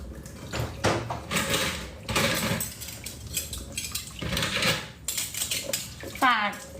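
Dishes being washed by hand: plates, pots and cutlery clink and clatter in irregular bursts, close and fairly loud, with a brief squeak at the end.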